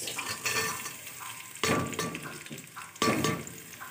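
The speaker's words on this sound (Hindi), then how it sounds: "तो ये आधा कप घी डाला है मैंने और इसमें ये एक प्याज।" One onion sizzles in half a cup of hot ghee while being stirred, a soft steady frying hiss broken by a few scraping stirs and clinks in a quiet home kitchen.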